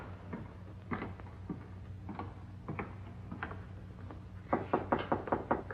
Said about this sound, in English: Better knock before you go in.